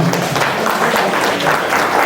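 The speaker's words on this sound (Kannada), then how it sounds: "ಒಂದು ಚಪ್ಪಾಳೆ ಜೋರಾಗಿ ಹೊಡಿರಿ ಹೇಳ್ತೀನಿ ಈಗ" Dense, loud applause from an audience at a temple anniversary celebration stage event, continuous clapping filling the whole short stretch with no pauses.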